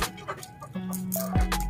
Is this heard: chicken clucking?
yes